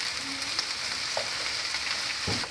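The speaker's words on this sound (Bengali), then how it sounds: "আমি ক্যাপসিকামগুলোকে 5-7 মিনিট রান্না করেছি" Chopped red and green capsicum with chopped chili fry in a pan, giving a steady close sizzle with a few light clinks of stirring.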